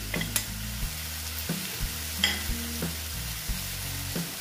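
Spring onion stalks go into a hot pan for a spicy katla fish curry, sizzling softly while a utensil scrapes and stirs them in steady, repeated strokes, close and quiet with no voices.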